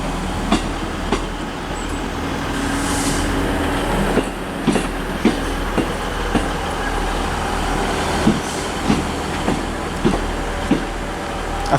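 A passenger train from Montrose rolls into Aberdeen station with a steady low rumble and a regular series of sharp clickety-clack wheel beats over the rail joints, heard close and fairly loud.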